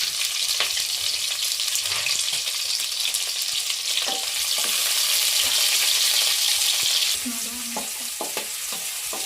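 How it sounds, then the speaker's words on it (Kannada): Curry leaves and two chopped onions frying in hot oil, a loud steady sizzle with occasional stirring clicks throughout, easing slightly near the end. "ಕಾಯ್ತಿರೋ ಎಣ್ಣೆಗೆ ಕರಿಬೇವು ಮತ್ತು ಏನು ಕಟ್ ಮಾಡಿಟ್ಟಿದ್ದೆ 2 ಈರುಳ್ಳಿ, ಅದು ಕೂಡ ಸೇರಿಸ್ಕೊಂಡು ಚೆನ್ನಾಗಿ ಕಲರ್ ಚೇಂಜ್ ಆಗೋವರೆಗೂ ಫ್ರೈ ಮಾಡ್ಕೊಳ್ಳೋಣ"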